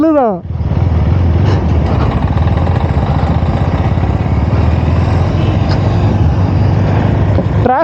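A 2026 KTM Duke 390 R motorcycle engine drones steadily and loudly throughout a ride in traffic, with a constant close-up mechanical rumble and wind noise, briefly dipping near the start.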